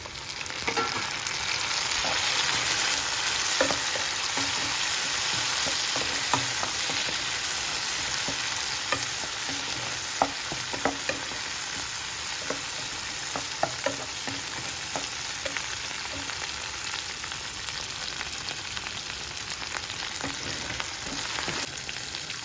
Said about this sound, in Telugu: కరివేపాకు వేగిన తర్వాత టమాటా ముక్కలు వేసుకోవాలి